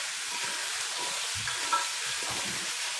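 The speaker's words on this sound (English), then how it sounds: "You hear that sizzle?" Steady sizzling hiss of bok choy frying in a hot pan, with a soft clatter as it's stirred and tossed.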